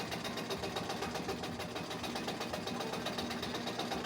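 An industrial Singer 31-15 sewing machine on a servo motor stitches at its longest stitch length, giving a steady, fast mechanical chatter with an even rhythmic hum that runs unbroken and fairly close throughout.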